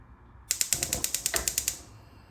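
Rapid clicking of a gas stove's igniter as the burner is turned up, about a dozen evenly spaced sharp ticks over roughly a second and a half, close and fairly quiet, with no talking.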